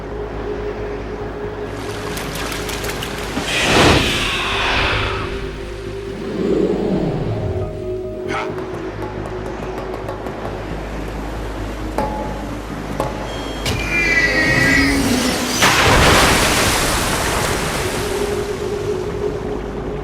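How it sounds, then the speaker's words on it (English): Footsteps splashing through shallow water in the video game Metal Gear Solid 2, a steady wet patter over a constant watery ambience, with louder splashing bursts partway through and again near the end. "running on water."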